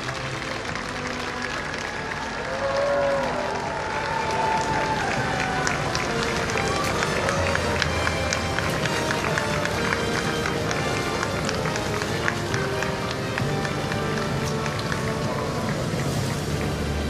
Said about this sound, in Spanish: Escuchemos los aplausos